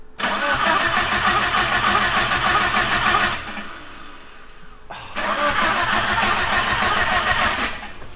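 A Mitsubishi Evo wagon engine cranks and fires up loudly and close, runs for a few seconds, drops off briefly, then starts again and holds a steady rumble.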